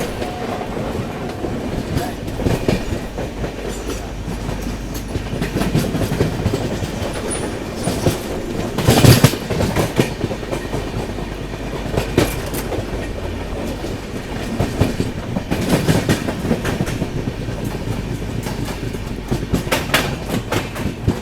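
Gujarat Sampark Kranti Express train running on Indian rails near Godhra, with a steady rumble and rhythmic clickety-clack of the wheels throughout and a brief louder metallic burst partway through.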